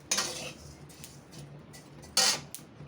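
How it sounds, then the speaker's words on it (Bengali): A metal spoon stirs lime juice mixture in a bowl, giving two sharp clinking scrapes against the dish that are separated by soft quieter stirring, close by and with no talking. "পাতি লেবুর রস দিয়ে দিচ্ছি। এটাকে আমি এবার নাড়াচাড়া করবো।"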